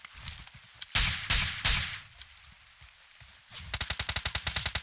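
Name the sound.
gunfire in PUBG Mobile video game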